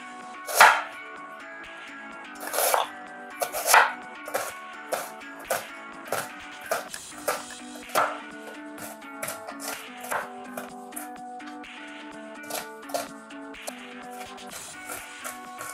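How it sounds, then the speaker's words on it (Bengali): Knife chopping an onion on a board, a series of crisp close taps starting strong and loose, then settling into quicker, lighter regular chops, with no talk. "আমি পেঁয়াজটা কুচিয়ে নিচ্ছি"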